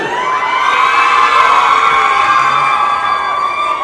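A loud crowd cheers and screams together in a sustained, high-pitched roar that holds steady throughout.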